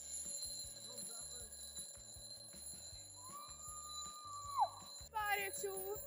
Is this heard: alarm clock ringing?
yes